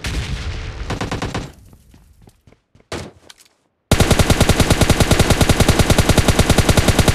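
Gunfire in PUBG Mobile Lite: a few loud shots and scattered cracks give way to a long, fast automatic burst, each round sharply spaced and close, with no talking.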